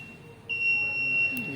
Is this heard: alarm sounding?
yes